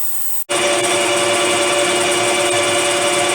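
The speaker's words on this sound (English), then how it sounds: "So, over to the lathe, and we'll start prepping the blank out." Metal lathe turning a blank for a carburettor adapter on a BSA Bantam, starting abruptly and then running as a loud steady whine with a constant tonal hum.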